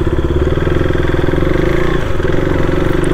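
A repaired motorcycle with low, nearly empty engine oil runs steadily and loudly close by, its dense, even exhaust rumble holding throughout without revving.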